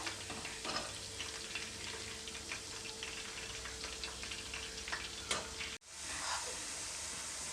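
Bitter gourd chips fry in oil in a kadai over a medium gas flame, giving a steady close hiss with small crackles and ticks, briefly cut off near the end before the sizzle returns.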